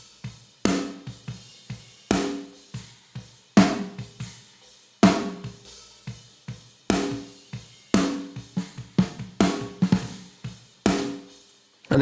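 A heavily processed snare from the Getgood Drums Modern & Massive library with its turbo setting pushed to maximum. Loud, dense hits fire in a steady looped groove, each crack thick and compressed with fuller tails and busy quieter strokes between, and no voices.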